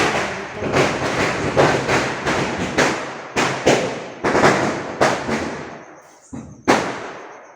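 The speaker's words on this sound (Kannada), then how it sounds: "ಫುಲ್ಲು ಪಟಾಕಿ ಹೊಡಿಸ್ತಾ ಇದ್ದಾರೆ" Loud firecrackers burst in rapid succession, sharp cracks and booming thuds echoing and decaying, slowing to a few isolated bangs toward the end.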